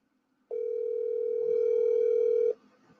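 A steady telephone tone sounds in the earpiece while a call is being dialed, one unbroken two-second tone that cuts off abruptly, heard alone and fairly clear.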